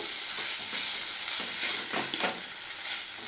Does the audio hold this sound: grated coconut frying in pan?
yes